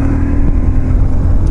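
A motorcycle engine roars loud and close on a New Year's Eve ride, a continuous rumbling drone under heavy wind buffeting.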